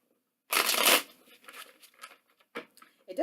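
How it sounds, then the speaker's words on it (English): Tarot cards being shuffled at a desk, a loud riffling burst up front followed by softer intermittent card handling and light taps, close and with no talking. "I'm just going to shuffle 3 times for you"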